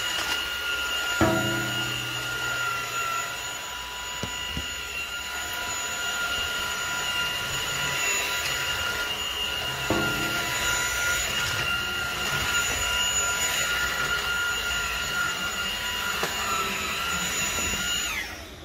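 Vacuum cleaner sucking dust off a floor, a loud steady high-pitched whine with roaring airflow running continuously for the whole stretch, with slight changes in tone as it moves, then cutting off at the end.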